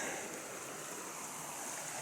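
Hillabee Creek flows beside the Pinhoti Trail as a steady, unbroken rush of water. It is constant and fairly soft, with no voices.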